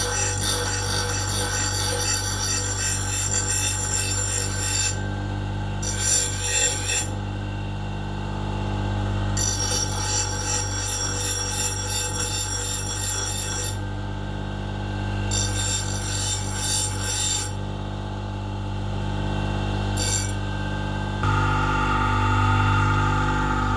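Steel is ground into a fleshing knife for hide tanning, with a steady powered grinder hum broken by repeated bursts of harsh, high grinding as the blade meets the wheel.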